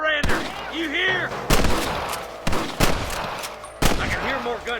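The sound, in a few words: gunfire in Red Dead Redemption video game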